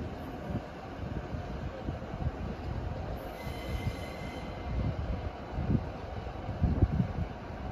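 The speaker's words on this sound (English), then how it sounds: "Departing now is the 1611 Transport for Wales service from Bargoed to Penarth." A Transport for Wales train pulls out of Cardiff Queen Street station, giving a steady rumbling roll of wheels over track with some faint high squeal, heard from the platform without talk.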